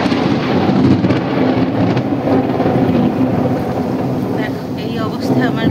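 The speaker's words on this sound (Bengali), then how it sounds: "এখন আমি ছাদে চলে এসেছি পুজো দিতে, এসে আর মন ধরছে না, এত ঝড় বৃষ্টি বাজ পড়ছে বলে।" Heavy rain pours steadily on a rooftop during a thunderstorm, a loud, continuous broadband roar with deep rumbling thunder underneath, close and unbroken throughout.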